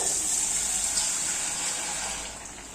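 Water poured from a container into a cooking pot for a Bengali pumpkin-stem and poppy-seed paste dish, a steady close hiss and splash that tapers off at the end.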